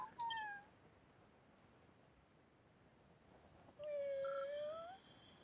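Two separate video game cat meows, a short one at the start and a longer, drawn-out one later, with quiet hiss in between.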